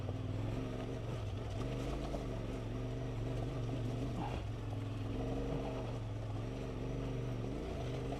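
Off-road motorbike crawling slowly over rocks on a green lane in the Lakes, a continuous low engine drone held at steady revs with slight throttle wavers under careful clutch control.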